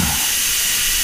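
Steam blasts from the release valve of an Instant Pot pressure cooker holding corned beef brisket, a loud, close, unbroken hiss that fills the whole moment alone.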